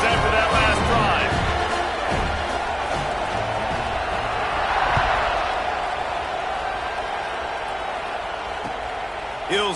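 A college football stadium crowd for Rutgers vs. Washington roars loudly at a kickoff, a dense, sustained wash of cheering that tapers slightly, with commentary voices woven through it.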